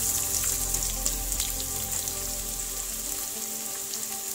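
Ginger sizzles steadily in hot coconut oil in a pan, an even, close crackling hiss with no talk over it.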